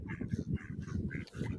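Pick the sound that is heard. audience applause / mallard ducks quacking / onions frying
mallard ducks quacking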